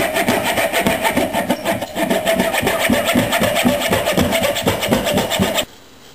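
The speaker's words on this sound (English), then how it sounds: "all I have to do is cut out the basic shape with the coping saw" A coping saw cuts the basic shape of a wooden crankbait lure from a block held in a vise, with fast rhythmic back-and-forth rasping strokes, close and loud, stopping abruptly just before the end.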